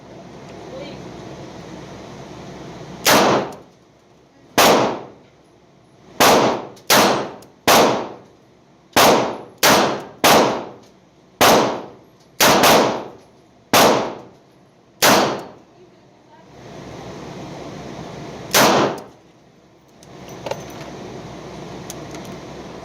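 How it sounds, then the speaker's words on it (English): A Smith & Wesson snub-nosed revolver is slow-fired from 7 yards, about sixteen sharp, loud reports at uneven intervals of a second or two, each with a short ringing tail, over steady outdoor background hum. "we're going from 7 yards now with the Smith & Wesson, just slow fire"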